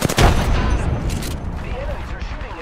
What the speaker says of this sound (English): Lobbing a frag